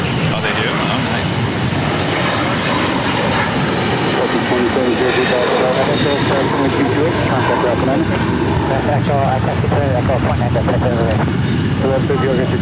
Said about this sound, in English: 777 taking off to Las Vegas on an A321